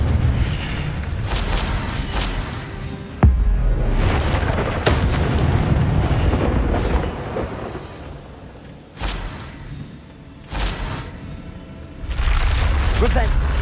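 Incendio fire spell cast in the Hogwarts Legacy video game, heard as loud booming fiery bursts and cracks, several sharp blasts spread across the stretch with a rumbling low roar between them, and a voice speaking over parts of it.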